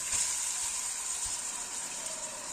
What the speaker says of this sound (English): We fry the rice very well